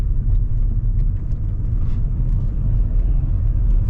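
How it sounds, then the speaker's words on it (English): Low, steady engine rumble from a car coasting on engine braking at night in London, with road noise droning continuously and no voices. "I just had to allow the engine to do the braking for me"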